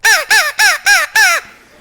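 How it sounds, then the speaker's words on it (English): A crow caws five times in quick succession, loud and close, each harsh call evenly spaced before a brief fade into quiet. "So I will call the crows."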